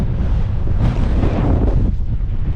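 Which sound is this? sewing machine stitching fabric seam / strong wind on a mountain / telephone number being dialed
strong wind on a mountain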